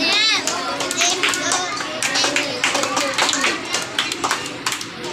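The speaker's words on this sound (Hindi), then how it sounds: "हाथ उठा के ताली मारो, 10 बार ताली मारो, जोर जोर से" A group of children clap their hands together in quick, uneven bursts during an indoor play and exercise session, with children's voices chattering over and between the claps.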